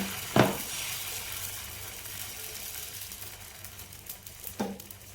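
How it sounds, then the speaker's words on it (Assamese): Pitha batter cooking in a lightly oiled pan gives a soft, steady sizzle throughout, punctuated by two sharp taps of a utensil against the pan, one at the start and one near the end. "পেন এখন অকণমান তেল সানি লৈ মই এখন এখনকৈ পিঠা বনাই যাওঁ।"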